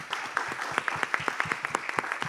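Audience applause at a Toulouse School of Economics stage event as a student joins the stage, a steady patter of many hands clapping at moderate loudness with distinct individual claps standing out.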